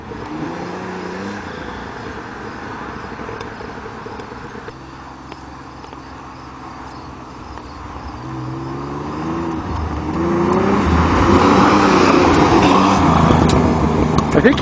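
A Pontiac Fiero with a V6 engine pulls away and speeds up, its engine tone rising in pitch through the gears and growing louder near the end, heard outdoors at moderate distance.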